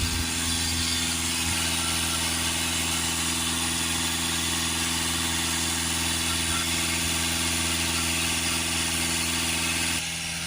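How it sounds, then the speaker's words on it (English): An Audi A6 2.0 TDI Ultra diesel engine idles steadily and loudly up close, a constant drone with a low vibrating hum and no talk. "Engine running, we're going to put the next dose in."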